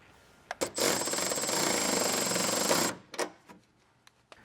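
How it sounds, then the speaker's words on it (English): An 11mm wrench works a bolt snug on a plastic mud flap of a 2016-2023 Toyota Tacoma, giving a steady two-second burst of close, rapid ratcheting clicks followed by a few sharp knocks. "take our 11mm wrench, and get that snugged down as well"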